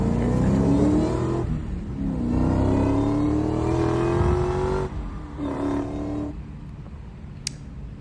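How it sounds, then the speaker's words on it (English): A Dodge Challenger pulls hard from first through third gear, engine revs climbing steadily with clear drops at each upshift, loud and close before easing off at the end, no voices. "here's a little pull from first to third gear"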